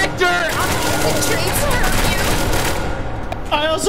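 Rapid automatic bursts from a Vector submachine gun in an SCP game, loud and close, forming a dense rattling fusillade that runs almost the entire time before a short pause.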